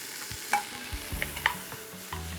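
Onion, green pepper and bacon fry in butter for ketchup rice, with a soft sizzle under irregular spatula stirs and a couple of bright clicks against the pan.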